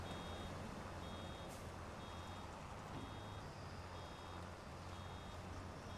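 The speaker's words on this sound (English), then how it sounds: "Mostly I get irritated by beep beep beep sounds, but I like this one." Steady, evenly spaced high-pitched reversing beeps from a vehicle in Farming Simulator 25 repeat over a constant low engine rumble and noise.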